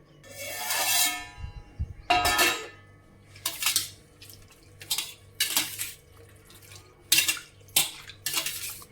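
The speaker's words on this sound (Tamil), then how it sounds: "இதை நல்லா 2 வாட்டி நல்லா பச்சை தண்ணியிலையும் கழுவி எடுத்துக்கலாம்" Cauliflower is washed in a kitchen with plain water for cauliflower fried rice, with repeated sloshing and splashing bursts, hands swirling the florets in a vessel, and occasional clinks of the container.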